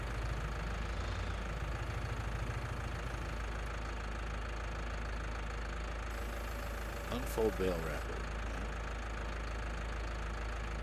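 Tractor engine idling steadily in Farming Simulator 19, a continuous low drone throughout with a bale wrapper unfolding, and a person speaking over it.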